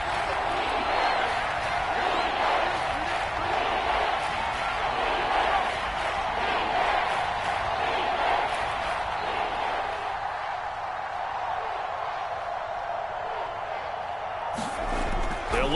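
Stadium crowd noise at Kansas City's home ground in a football video game, a sustained dense roar rumbling steadily under game commentary during a third-and-goal play.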